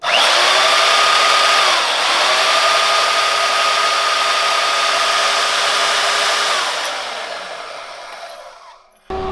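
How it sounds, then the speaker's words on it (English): A bandsaw slicing through very thin metal tubing for a Kawasaki Mule project gives a loud, steady whine with sustained tonal lines, a brief pause near two seconds, then fades out after about seven seconds, with no talking. "Can you cut that on the bandsaw?"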